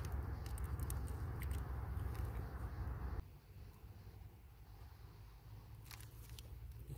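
Close, crunchy bites and chewing of an organic chocolate granola bar made with oats and cane sugar, a steady crispy munching that softens partway through, with no talking.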